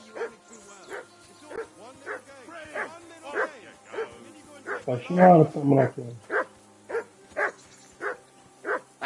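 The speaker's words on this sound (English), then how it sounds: "That dog of yours is barking like the devil." Dog barking repeatedly in Kingdom Come: Deliverance II, a regular string of sharp barks with a louder burst midway, while someone speaks over it.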